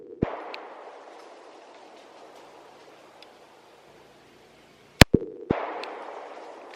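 Sharp gunshots from an SCCY CPX pistol at an outdoor range. A single crack is followed by quiet, then a loud shot and quick follow-ups, each ringing out with a brief decaying echo.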